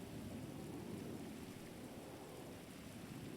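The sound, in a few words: rain and thunder in the video game NoPixel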